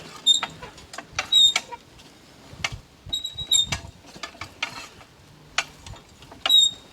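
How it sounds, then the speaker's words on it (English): A wheel hoe is pushed through garden soil, covering freshly sown corn and bean seeds in a Tasmanian three sisters plot. Repeated gritty scrapes and creaks come in uneven strokes, with faint bird chirps in the background. "So I'm going to cover the corn and beans back now with the wheel hoe"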